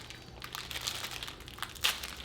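Crinkling of a plastic packaging bag holding a plant-based breakfast item, a few soft rustles and crackles building to one sharper crinkle near the end, close and fairly quiet.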